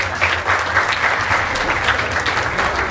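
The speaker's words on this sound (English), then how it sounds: "Let's give them all a big round of applause." An audience at the Robeson County Fair in Lumberton, North Carolina, gives a sustained round of applause, loud and close, with dense clapping throughout.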